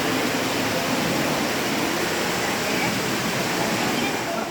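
Natural spring fountains at Atlantis on Paradise Island splash in a steady, dense rush of falling water, loud and continuous, among palm trees outdoors.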